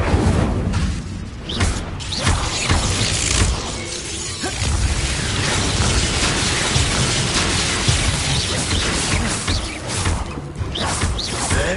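Dense, continuous magical blast noise from the Expulso spell in Hogwarts Legacy, a sustained crackling, booming roar with shattering debris textures running loud throughout with only brief dips.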